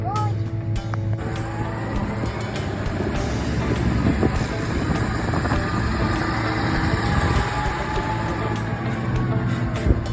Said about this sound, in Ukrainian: Продовжуємо тести трактора.